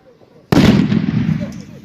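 A firecracker bursts with a single sharp, loud bang at a New Year's Eve fireworks session, followed by a lingering rumble and crackle as it fades.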